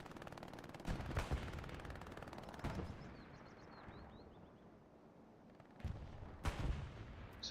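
Distant machine gun fire in the video game Hell Let Loose, several separate sharp bursts and cracks spaced a few seconds apart over a faint windy background.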